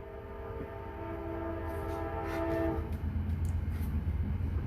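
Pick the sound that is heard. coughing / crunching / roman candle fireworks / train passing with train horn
train passing with train horn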